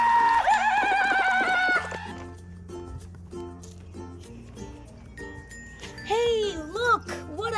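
A toy horse gives a loud whinnying neigh at the start and again near the end, with tinkling jingles and light clicks between, close up.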